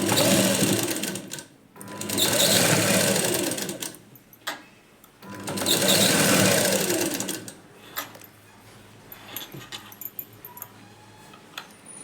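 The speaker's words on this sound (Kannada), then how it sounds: "1/2 ಇಂಚಿಗೆ ಇಲ್ಲಿ ಸ್ಟಿಚಿಂಗನ್ನು ಮಾಡ್ಕೊಳ್ಬೇಕು." A sewing machine stitches a half-inch seam on a plain blouse in two loud runs of rapid needle chatter, each a couple of seconds long with a short pause between, then only light fabric rustling and handling.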